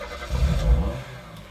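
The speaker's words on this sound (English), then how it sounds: "that to me is the sound of Dave's Porsche but that is apparently a preset they used from the Emax sound library" A car engine sample from an Emax sound library preset, a short low rumbling rev that swells and fades within about a second.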